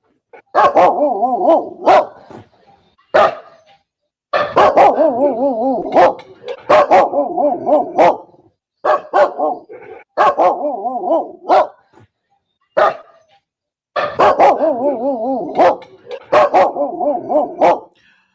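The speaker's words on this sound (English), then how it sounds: "I play that dog barking so that Joe Barker can hear the other dog" A recording of a dog barking is played back. Loud, close barks come in repeated clusters with short silent gaps, a long series of rapid woofs and yips with no talking over them.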